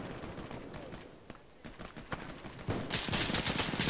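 Bursts of rifle and machine-gun fire in an Arma 3 military operation crackle at a moderate distance, with scattered rapid shots that swell louder toward the end.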